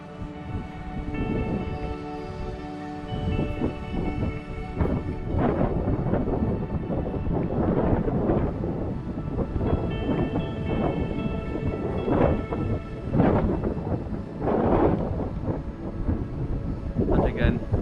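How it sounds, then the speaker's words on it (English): Strong coastal wind near Whitley Bay buffeting the microphone in loud, continuous rumbling gusts, with someone talking underneath throughout. "if you can hear me above this wind"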